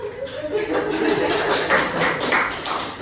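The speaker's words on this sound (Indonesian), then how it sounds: "Kasih tepuk tangan loh" A few scattered hand claps from a small classroom group during a teaching session, close and brief, mixed with a voice speaking.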